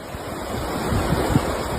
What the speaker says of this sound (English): Typhoon Lingling struck Kagoshima Prefecture with heavy rain and strong winds, pushing rivers over their banks and leaving streets underwater.